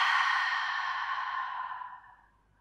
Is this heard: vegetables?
no